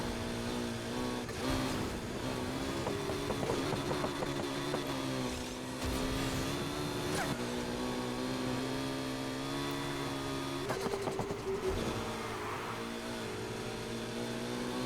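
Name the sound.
car drifting around a corner in Need for Speed Heat video game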